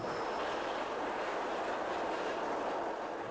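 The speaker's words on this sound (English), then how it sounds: "it makes a lovely mining clacky sound as the train runs up" Steady, rapid mechanical clacking with a rumbling rush, a continuous dense rattle of a roller coaster train hauled up a chain lift at Disneyland Paris.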